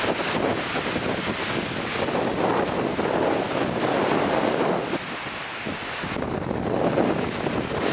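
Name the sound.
wind blowing by the sea in San Sebastian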